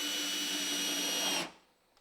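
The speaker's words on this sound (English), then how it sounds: "use a countersink bit to pre-drill the holes so you don't split the boards." A power drill with a countersink bit whirs steadily at high speed for about a second and a half, pre-drilling wooden planter boards, then abruptly stops, leaving near silence.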